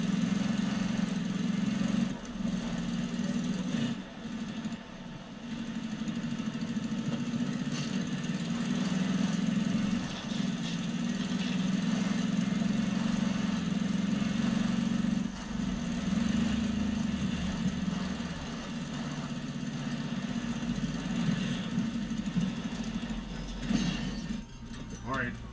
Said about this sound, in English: I swear this engine sounds like a lawnmower.